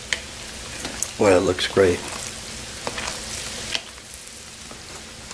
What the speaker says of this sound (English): so we're gonna give it a little stir real quick